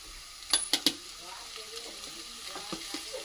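Meat, carrot and other vegetables frying in a pan are stirred, with a few sharp clattering strokes early on over a soft, steady sizzle that carries on quietly afterward.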